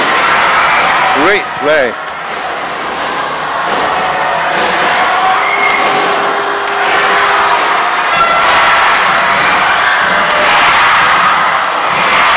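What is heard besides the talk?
crowd cheering at a badminton match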